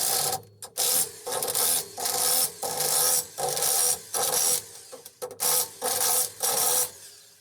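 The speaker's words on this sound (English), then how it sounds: "Then I'm going to go around and tighten all the nuts up." Wheel adapter nuts being tightened, likely with a ratchet, in a series of regular rasping bursts separated by short pauses, close and fairly loud with no speech.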